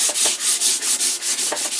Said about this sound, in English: by using a 240 sandpaper, you can virtually go against the grain